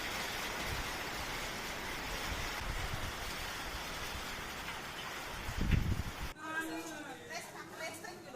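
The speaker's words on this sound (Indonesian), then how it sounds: "hujan lagi hujan angin." Heavy, steady rain with wind during a storm in South Jakarta, a dense continuous roar that swells briefly near the end before the sound abruptly changes to a different, busier background.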